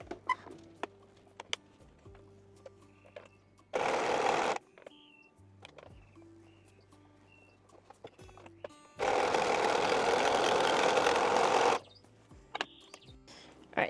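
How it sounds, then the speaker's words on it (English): Serger overlocking the raw edge of linen pants in two long bursts of loud, steady stitching, separated by short quiet gaps with small handling clicks. "serge this raw edge here."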